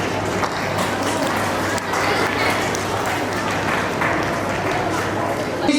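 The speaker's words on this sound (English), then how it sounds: "Let's welcome them with a huge round of applause." An audience at a Republic Day celebration claps steadily to welcome children onstage, a dense wash of applause running under voices that talk throughout.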